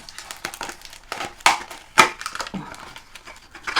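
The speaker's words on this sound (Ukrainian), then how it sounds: "зараз спробую скотч відклеїти" Adhesive tape peeling and crinkling close by, with sharp tearing bursts and crackles in an uneven rhythm, loudest in two strong rips.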